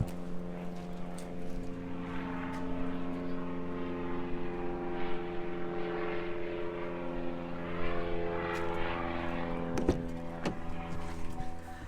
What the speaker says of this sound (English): There have been a truly unbelievable amount of planes out the last week.